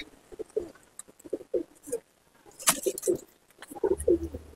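Malwai pigeons in a loft coo in short, soft, repeated bursts close by, with brief pauses, a sharp rustle or flap partway through, and a faint low hum near the end.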